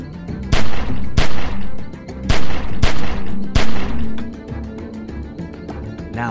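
Gunfire in The Walking Dead 400 Days video game: a volley of loud, sharp shots in quick irregular succession, each with a booming echoing tail, then fading out.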